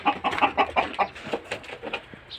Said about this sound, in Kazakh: Тауықтар бар